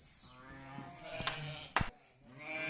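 Sheep bleat in a barn during lambing time, with several wavering, nasal calls overlapping at close range and a couple of sharp knocks or clatters partway through.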